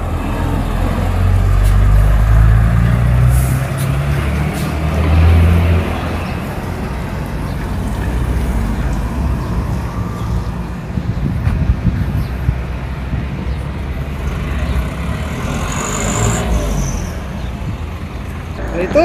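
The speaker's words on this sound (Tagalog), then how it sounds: "Puro trailer truck dito." Heavy trailer trucks roll along a road by an aluminum factory in an industrial city in Dammam, Saudi Arabia, a steady low traffic rumble with wind buffeting the microphone and passing vehicles swelling and fading.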